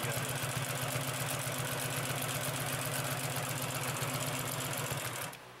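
A Consew P2339RB industrial sewing machine stitches at a steady fast rate, a loud continuous mechanical hum with rapid needle rhythm that runs unbroken for about five seconds before stopping abruptly.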